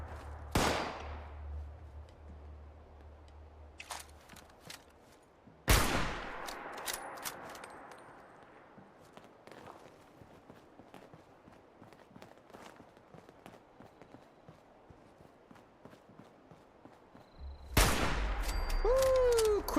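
A scoped weapon in a wasteland-exploration video game fires a few sharp, loud shots spaced several seconds apart, with quieter footsteps and ambient game noise filling the gaps.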